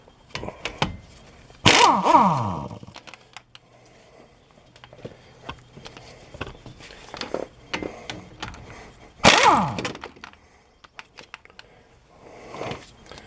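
A wrench works on the brake caliper bolts of a 2014 Chevy Silverado during a brake replacement, giving sharp metallic clicks and two louder clanks amid scattered tool rattles, close up.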